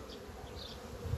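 Honey bees buzz in a short, low, continuous drone at an apiary, fairly faint and close, with a brief louder swell near the end.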